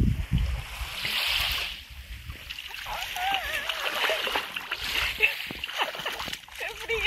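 Water splashes in the cold sea at Cala Agulla, a few soft sloshing bursts near the microphone while a person talks over them.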